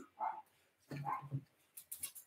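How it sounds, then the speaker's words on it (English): A dog barks in a few short bursts nearby, loud and agitated, with a brief higher yip near the end; no one speaks over it. "stop with the barking"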